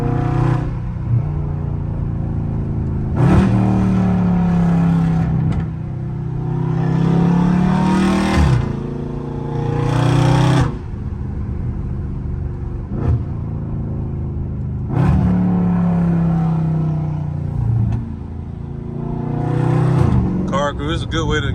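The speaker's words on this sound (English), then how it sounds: "downshift every time you slow down in the highest mode you got" A Dodge SRT in track mode revs and blips through repeated downshifts, deep engine rumble rising and falling in several surges, close inside the cabin, with someone talking over it.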